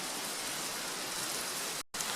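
Steady rain falls at a lakeside wild camp by a Scottish loch, a dense, even hiss of drops that holds constant before briefly cutting out near the end.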